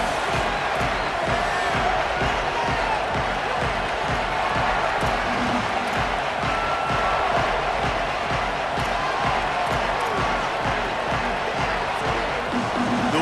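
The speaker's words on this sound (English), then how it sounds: "The crowd has this place jumping already." A stadium crowd in the EA Sports College Football video game roars continuously and densely, a constant wash of cheering with no pauses.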